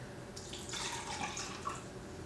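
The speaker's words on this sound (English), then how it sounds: "Inside there's a little line, and you're just going to add your water to that line." Tap water running and splashing as it is poured into a home essential oil diffuser up to the fill line, a steady close trickle with no talking.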